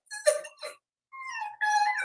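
A dog gives two short whimpering yelps, then after a pause a longer high, wavering whine, close and clear, with no talking over it.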